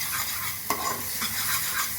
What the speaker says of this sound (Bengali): একটু নাড়িয়ে নিই, নাহলে লেগে যাবে মশলাটা।